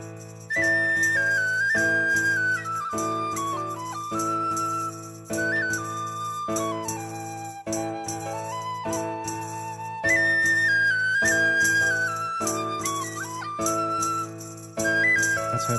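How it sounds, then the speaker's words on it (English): A tin whistle carries a gentle melody for a video game's Solstice Festival music, clear tonal lines gliding over steady sustained backing chords, continuous and fairly loud throughout. "That's her playing the whistle."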